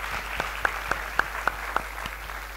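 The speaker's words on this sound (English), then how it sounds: "So I think that deserves a round of applause." Audience applause at an international storytelling conference, heard as a short burst of scattered claps over a low room hum, fairly distant and brief.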